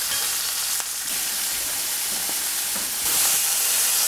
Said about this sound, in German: Der Anbratvorgang bei Fleisch generell sollte sehr kurz sein.